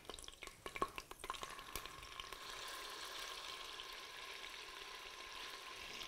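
Moroccan meatballs fry in a Tefal Cook4Me+ multicooker, a steady soft sizzle with a few sharp clicks and taps near the start, then an even hiss at low volume.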